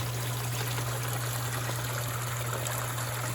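Water trickling steadily into a koi pond from a water line, a constant soft splashing babble with a low steady hum beneath, no voices.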